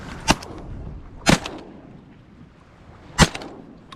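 Shotgun blasts at ducks during a hunt in a blizzard, three loud, sharp reports, the first two close together and the third after a longer pause, against wind noise.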